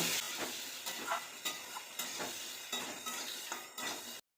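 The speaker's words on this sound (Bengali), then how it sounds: "পেঁপে আর আলু দিয়ে দেব লবণ দিয়ে দেব হলুদ লবণ আর হলুদ দিয়ে আমি ভালো করে এটা ভেজে নেব" Papaya and potato pieces fry in a pan with salt and turmeric, a low sizzle broken by regular stirring scrapes roughly every half second, fairly quiet with no voices.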